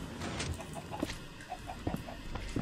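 Chickens clucking in the video game Minecraft, a run of short, fairly quiet clucks and squawks repeating at irregular intervals over a soft background.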